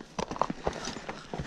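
Hooves of a horse being ridden and turned in a tight circle clip-clop at close range, a handful of uneven thuds on the ground with no talk.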